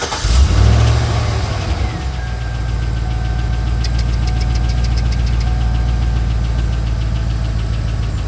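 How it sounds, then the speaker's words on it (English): A power washer engine starts up and settles into a steady, loud running drone with a persistent ticking fault, close by, with no talking. "You guys want to hear the tick?"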